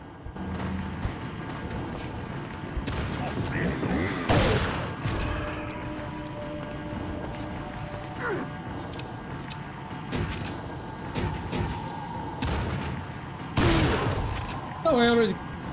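A shotgun fires in Resident Evil 4, sharp blasts spaced out among game effects while a player talks over the action.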